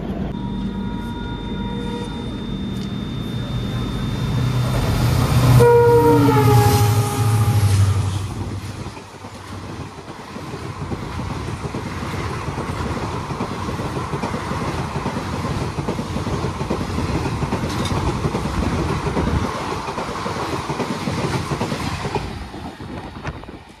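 Train on a single-track line in India passing during an unscheduled crossing halt, a loud horn and rumbling approach giving way to steady rolling clatter of wagons.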